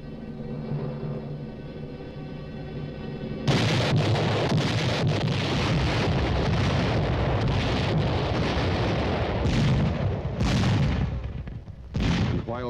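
Giant railway cannon mounted on flat cars fire shells in a series of heavy booming blasts, one after another, loud and rumbling over a low background hum.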